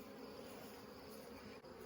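A bee buzzes close by at a beehive, a faint but steady insect drone that holds without a break for about two seconds, with no voices.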